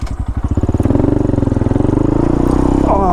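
A motorcycle engine runs loud and close on a ride, its pulsing exhaust throbbing steadily and rising slightly as it pulls along, with no talking over it.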